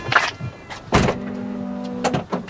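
Powered tailgate of a 2006–2011 second-generation Mercedes ML 320 closing. A brief thump, then a steady electric motor whine lasting about a second, ending in a latch clunk, all close and loud.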